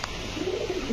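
A pigeon with ash-coloured eyes coos softly once, a low burbling call set against faint background noise.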